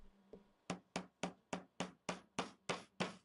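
A hammer drives pins in for a DIY death racer build: nine sharp, evenly spaced metallic strikes ring out close and loud after a light tap, each blow decaying quickly.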